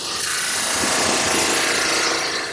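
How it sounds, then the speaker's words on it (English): Loud, continuous rasping roar of a belt-fed thickness sanding machine grinding wood down to thickness, steady and close for the whole stretch. "To get that material down to the right thickness, I'm using this sanding machine."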